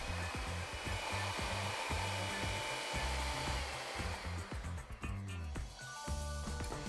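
Lime jello and pineapple mixture being whipped with an electric mixer until frothy, a steady loud motor whir with a rhythmic thumping churn running continuously throughout.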